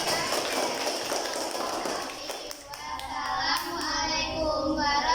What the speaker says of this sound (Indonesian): berikan tepuk tangan untuk kelompoknya yang sebelah